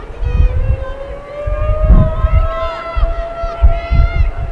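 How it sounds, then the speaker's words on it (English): A wailing siren rises steadily in pitch, sounding some distance off in Troy beneath crowd noise and low wind rumble at a women's soccer match, with a second tone sweeping faintly above it. "Some kind of siren going off here in Troy."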